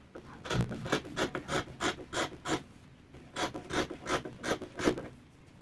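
Fabric being cut out for a flared dress, probably with shears, giving a run of close, regular rasping snips in two bursts of about ten strokes with a short pause between them, and no talking.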